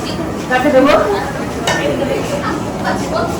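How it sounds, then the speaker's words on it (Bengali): Luchi deep-fry in hot oil at a crowded flat picnic after the immersion festivities. A steady, close sizzle runs under clinking utensils and the chatter of several people. "আর এখানে এখন ভাজা চলছে লুচি"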